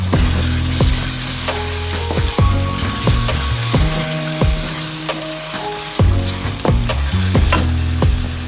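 Plantain frying in oil in a pan for a Nigerian Sunday dinner, a steady loud sizzle broken by repeated clinks and scrapes of a utensil stirring and turning the pieces.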